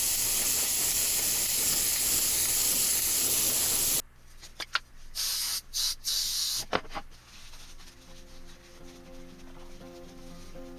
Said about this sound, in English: into supposedly black epoxy paint. And the second coat went on a lot better